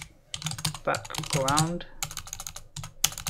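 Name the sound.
typing a file name on a computer keyboard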